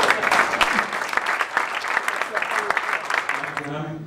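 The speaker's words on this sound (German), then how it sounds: "Applaus für Herrn Eckhardt" A room of attendees at a municipal forum in Amelinghausen applauds a speaker, dense sustained clapping from many hands close by, loud and even, fading near the end as a voice begins.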